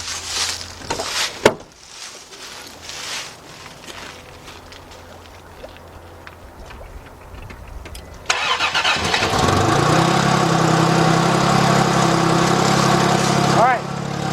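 An Acura SLX / Honda Passport engine cranks and fires, then settles into a loud steady idle with a faint whine, after a quiet stretch with a few clunks and light movement nearby.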